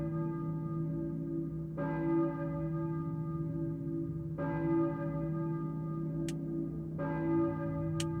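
Church bell ringing in the video game Silent Hill, three evenly spaced deep tolls with long ringing decay over a low droning hum, plus two faint sharp clicks.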